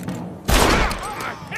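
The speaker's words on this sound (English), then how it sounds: "Marvelous shot, dear boy." A single loud gunshot from a Western-era firearm in Red Dead Redemption, sharp and close, with a broad blast and lingering ring that fades under faint background voices.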